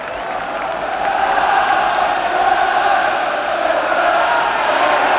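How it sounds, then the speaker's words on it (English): A football crowd gathers before a West Ham United v Aston Villa FA Cup semi-final, its broad, continuous roar holding steady and growing slightly louder after the first second. "And now the crowd getting ready for all systems go towards the FA Cup semi-finals"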